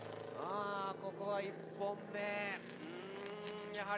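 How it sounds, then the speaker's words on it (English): A faint drift car engine, running rough, drones with wavering, uneven pitch, rising and dipping irregularly while a commentator talks over it, at Tsukuba Circuit. "the engine does sound it's running a little bit funny too"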